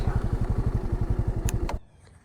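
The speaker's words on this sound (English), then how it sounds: "Okay, so I'm gonna park the bike" A 2022 Honda Navi motorcycle idling close by with a rapid, even engine thump, then a couple of metallic clicks as the engine shuts off and the sound drops away.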